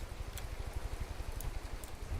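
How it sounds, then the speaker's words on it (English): Steady rain pattering in the video game From the Depths, a continuous close hiss with soft scattered drops and no voices. "I don't know why I hear rain sounds, because I'm in space."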